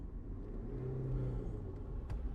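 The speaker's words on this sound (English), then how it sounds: "rev the car" A car driven without a clutch, its engine revved in neutral to match gears: a steady low rumble that swells and rises in pitch through the middle before easing off, close and continuous with no talk.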